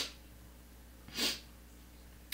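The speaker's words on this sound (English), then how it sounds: "Sorry if I'm sniffling" A single short, close sniffle through the nose from someone with a cold, sharp and breathy against a quiet room hum, with a faint breath at the start and another brief sniff at the end.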